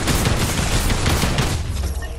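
An enhanced drum gun in a video game unleashes a loud, sustained stream of rapid automatic fire, dense and unbroken for about two seconds before thinning at the end.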